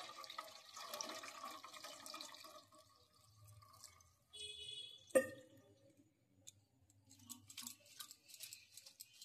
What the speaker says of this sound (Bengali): কিছুটা ঠান্ডা জল দিয়ে দিচ্ছি।